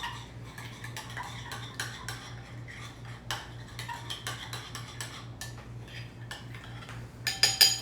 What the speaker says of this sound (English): you just mix it together